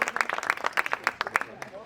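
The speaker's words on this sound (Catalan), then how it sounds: "Un aplaudiment, Aplaudiment." A short burst of audience clapping at a Pride special event, uneven and fairly close, with individual claps distinguishable as it tapers off.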